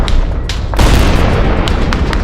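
A grenade blast in close combat at a trench position: a sudden loud broadband boom lands partway through, over constant rumbling background noise, with smaller thumps and crackles before and after.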